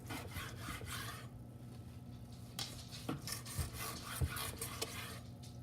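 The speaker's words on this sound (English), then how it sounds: "Let's do a couple more slices here," A knife slices through grilled tri-tip cooked on a Weber 26-inch kettle, with close, soft rasping strokes against a board and a few light taps. A faint steady hum sits underneath and no one speaks.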